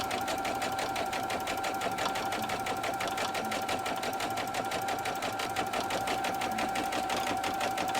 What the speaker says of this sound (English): you're going to stitch a time around to tack down the sheer fabric